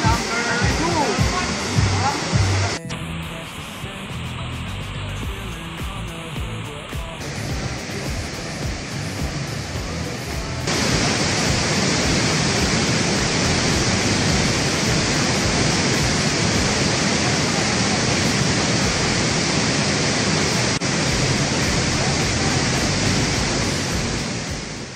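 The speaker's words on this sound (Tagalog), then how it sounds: "Pulang Bato Falls number 2." Pulang Bato Falls near Valencia roars as a broad, loud and steady rush of falling water, rising and thickening partway through, with no clear talk.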